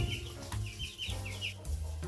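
Chickens cluck in short repeated calls in a henhouse over steady low farmyard noise, fairly close, with a few brief rustles between calls.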